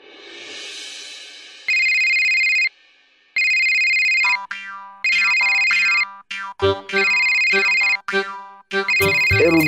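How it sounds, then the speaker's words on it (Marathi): A mobile phone rings with a loud, close electronic ringtone: bright tonal phrases repeat in regular bursts separated by short gaps, building to a busier, denser pattern toward the end. "तुझा फोन वाजतो."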